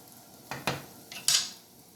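A spoon clanks against the metal pot while stirring salt into chicken tikka masala, four sharp scraping knocks in two pairs, close by, with quiet in between.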